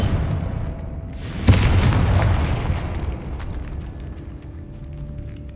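A single heavy magical blast from the Confringo spell in Hogwarts Legacy booms sharply, then rumbles and crackles away over several seconds against a steady background game ambience.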